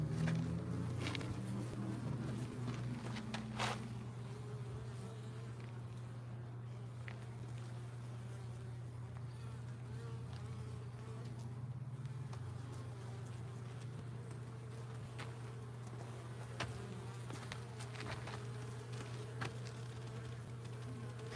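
Honey bees buzz steadily around commercial American-style and horizontal natural-approach beehives, a continuous dense drone with occasional brief louder passes close by.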